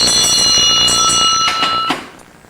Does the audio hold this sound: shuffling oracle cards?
no